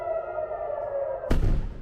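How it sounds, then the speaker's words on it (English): Air raid siren wailing across Israel during Iranian missile strikes, a steady held tone that cuts off abruptly and gives way to a burst of broadband noise. "Sirens through the night"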